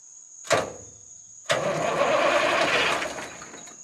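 A 1973 Mack R700 V8 truck engine, idle for about 20 years and getting no fuel, gives a short crank burst, pauses, then cranks steadily and loudly for about two seconds without firing.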